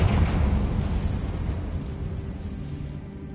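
A Confringo spell explosion in the Hogwarts Legacy video game lands as a dull burst, its rumbling roar fading steadily over a few seconds.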